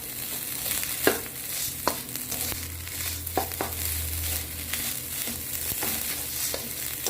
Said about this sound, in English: Mix it now so you're not seeing any white spots.